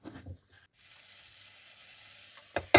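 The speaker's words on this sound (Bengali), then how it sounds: "এই তো আমি এটা নেড়েচেড়ে এখন ঢেকে রেখে দিচ্ছি কিছুক্ষণ রান্না হওয়ার জন্য" Sizzling in a pan of apricot pickle cooking with sugar, a steady soft hiss through the middle, bracketed by a brief stirring scrape at the start and two sharp clatters at the end.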